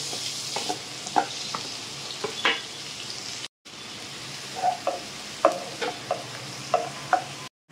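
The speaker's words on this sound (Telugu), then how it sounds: "ఇప్పుడు మనం ఇదే ఆయిల్లో ఉల్లిపాయలు పచ్చిమిర్చి కూడా వేసి బాగా వేగించుకోవాలండి." Onions and green chillies frying in oil in a pan for an egg curry, a steady sizzle with scattered pops and occasional stirring scrapes, with a short break midway.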